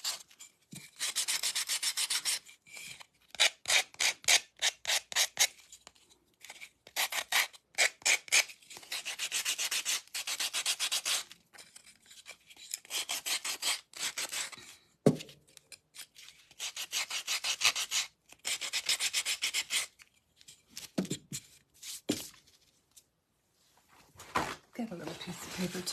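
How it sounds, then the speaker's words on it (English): Repeated rasping strokes of sandpaper on the wooden edges of a birdhouse, close and fairly loud, coming in rapid runs and longer scrubbing bursts separated by short pauses. "I am going to sand these edges a little bit."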